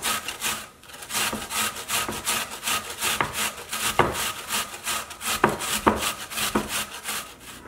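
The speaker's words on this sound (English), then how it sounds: "the first thing we're gonna do is grate the onion" An onion is rubbed against a grater in quick, steady rasping strokes, close and fairly loud, with no voices over them.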